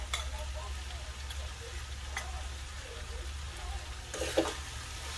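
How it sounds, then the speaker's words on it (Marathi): A wooden spoon stirs grated fresh coconut into kantola (spiny gourd) vegetable in a pan. The stirring is soft and faint, with light scraping and a few louder scrapes near the end over a low steady hum. "पुन्हा एकदा हा नारळाचा किस आहे तो सर्व भाजीमध्ये छान प्रकारे मिक्स करून घेणार आहोत"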